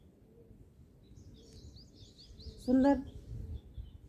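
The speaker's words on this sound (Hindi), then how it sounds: "जैसे चिड़ियों की चहचहाने की आवाज़," Faint bird chirps twitter outdoors at a stadium during a yoga class, scattered high calls over low background rumble, with a person briefly speaking partway through.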